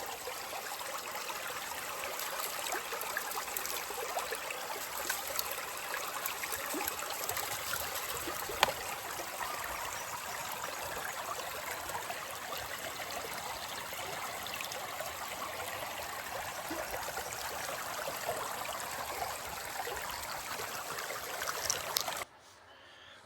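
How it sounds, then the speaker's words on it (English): Water flowing steadily through a gold sluice box in a creek at Tuena, NSW, a soft continuous trickle and rush that stays even throughout before cutting off at the end. "I'm going to take a break and just sluice for a bit"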